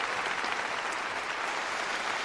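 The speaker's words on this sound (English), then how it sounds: "That's an aggressive applause." Loud, dense applause from a live audience welcoming guests onto a podcast stage, a thick unbroken roar of clapping that holds steady for its whole length with no voices over it.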